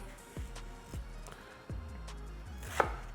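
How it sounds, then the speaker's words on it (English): Quick knife cuts through onion on a cutting board, a handful of distinct taps spaced about half a second apart, faint and close over low background hum. "All the quick little knife cuts, long ways"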